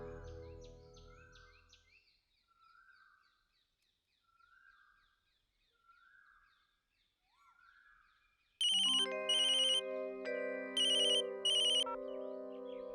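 A phone ringtone plays, starting with soft chirpy electronic tones repeated at regular intervals, then breaking into a loud, bright melodic ring with rapid repeated bursts near the end.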